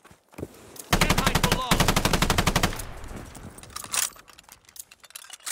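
Rapid burst of LMG machine gun fire in a first-person shooter video game, a loud steady rattle lasting about two seconds, followed by scattered fainter shots and game sounds.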